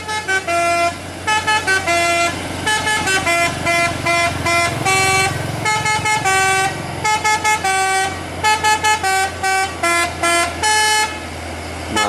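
An Indonesian bus telolet horn blares a loud, close run of musical multi-tone toots, repeated in rhythmic bursts with short gaps, over a low engine rumble.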